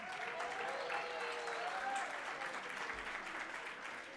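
Sustained audience applause fills a business awards ceremony held in a hotel, a dense steady wash of many hands clapping for about four seconds with a faint voice murmuring underneath.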